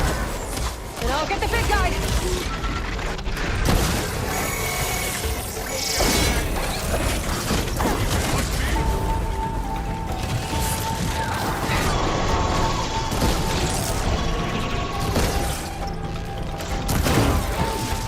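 Robotic machines attack in the video game Horizon Forbidden West, with continuous loud mechanical clanking, crashes and booms layered over game music and effects for the whole stretch, while a person talks intermittently over the action.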